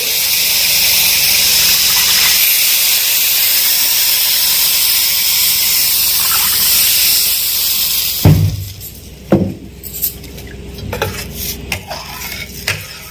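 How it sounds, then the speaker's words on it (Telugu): A loud steady hiss of water hitting a hot pan of semolina fills most of the clip, then stops, followed by several sharp clinks and scrapes of stirring. "3 కప్పులు వాటర్ పోసుకోవాలి."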